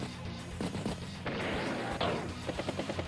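Artillery fire in the turn-based video game Advance Wars by Web, a cluster of booming game blasts and crashes with a bright crackling burst, followed by rapid repeated hits, dense and close.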